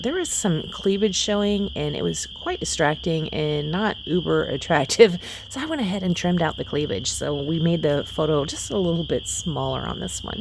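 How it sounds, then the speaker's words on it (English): Crickets and frogs chirp steadily outdoors on an evening, a continuous high-pitched insect drone running beneath a person talking close up throughout. "Sorry if you can hear all those crickets and frogs in the background."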